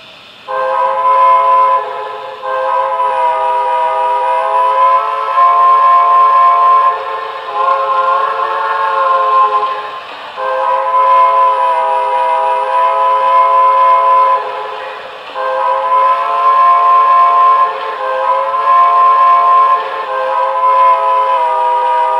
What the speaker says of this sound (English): Let's go select the other whistle again, and we'll see what that one sounds like when you quill it.